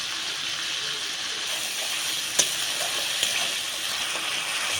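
Ginger paste frying in hot oil with tomato paste and whole spices, a steady moderate sizzle with a couple of small clinks from a utensil.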